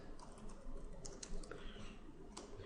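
Quiet, close typing on a computer keyboard as a search for Paint.net is entered, a quick run of light key clicks in an irregular rhythm, with no voices.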